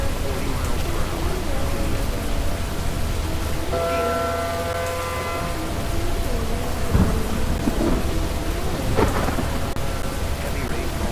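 Heavy rain pours steadily and thunder rumbles in the tornado storm game Twisted, a dense continuous wash with a few louder cracks and rolls near the end.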